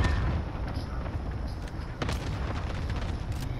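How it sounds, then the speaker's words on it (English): A cluster strike in Call of Duty: Modern Warfare: dense, continuous rumbling artillery explosions with overlapping booms and sharp cracks, loud and close throughout. "they're shooting a cluster at me"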